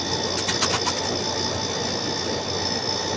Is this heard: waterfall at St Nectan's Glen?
no